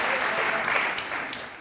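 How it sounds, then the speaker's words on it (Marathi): Audience applause at a televised courtroom-style talk show, a steady broadband patter of many hands clapping without a break, fairly even in loudness. "जर त्यांची इच्छा असेल तर ते टाळ्या वाजवतात."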